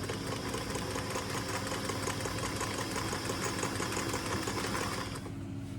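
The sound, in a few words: sewing machine stitching pants hem to the edge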